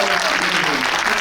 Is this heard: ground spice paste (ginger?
no